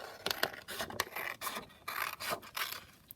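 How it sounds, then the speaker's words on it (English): Scissors cutting down a long skinny strip of paper, a close series of dry rasping snips in an uneven rhythm, quiet and alone. "I'm just going to again just cut down a long skinny strip"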